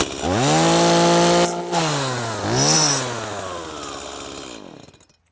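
A Stihl 30cc gas chainsaw fires up and runs loud and close, its engine holding a steady idle, briefly cutting out, revving again, then winding down and falling silent.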